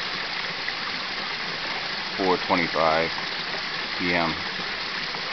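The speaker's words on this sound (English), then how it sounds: "This is the water, storm water running off of Belletete's lot from the two pipes." Storm water gushing steadily from two pipes off a lot, a continuous broadband rush throughout, with someone briefly speaking over it.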